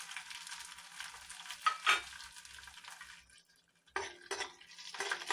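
Mustard seeds and broken chillies crackling in hot oil, bursts of sharp sizzling spatter that fade to near silence, then resume in short loud flares, close and alone without speech.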